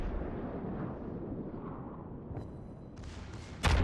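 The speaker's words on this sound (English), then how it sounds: "The secondaries are obviously opening up fire, and the primaries are finishing the job" Yamato battleship in World of Warships firing its secondary and main guns in a naval battle, a continuous dense rumble of booming gunfire ending in one loud close blast.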